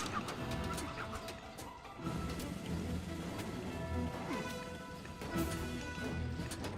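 Chickens cluck in Age of Mythology, scattered game-style bird calls mixed with faint unit and interface sounds, moderately quiet and continuous.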